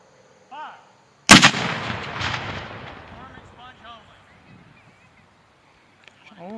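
A Civil War artillery cannon of Battery K, 4th U.S. Artillery, fires once at an anniversary camp demonstration. A single loud, close blast is followed by a long rumbling decay and echo, with faint voices before and after.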